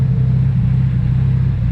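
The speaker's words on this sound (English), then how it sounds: "Alright, so I got the engine running right now." A go-kart engine idles steadily and smoothly, a low continuous rumble with an even pulse, close and loud with no talking.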